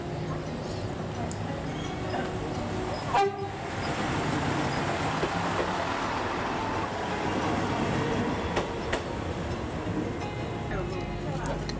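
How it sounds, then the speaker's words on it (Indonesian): An Indonesian KRDI diesel railcar train built by PT Inka, on the Prameks Solo–Yogyakarta line, rumbles steadily with a short horn-like blast early on, while a voice talks over the continuous rail noise. "Ada pula rangkaian kereta rel diesel Indonesia atau KRDI produksi PT Inka."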